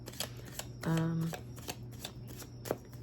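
Tarot cards riffled and shuffled close up, a quick papery flutter followed by soft taps, while a person talks quietly in the background.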